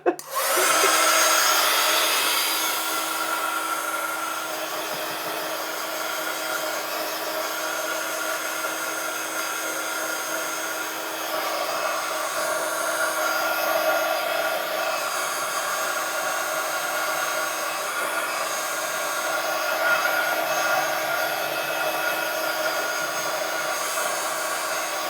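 A hair dryer runs steadily at close range for the whole stretch, drying a steampunk journal page with a loud, constant whooshing roar and no pauses.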